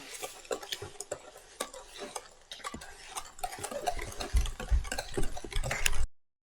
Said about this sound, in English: next we're going to mix it